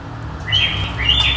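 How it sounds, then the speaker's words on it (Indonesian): A samyang songbird, a tame bird in full song, gives two bright, high whistled notes in quick succession, close and clear over low background rumble. "ini ada koleksi berikutnya dari Pak Thomas, ada burung samyang ya"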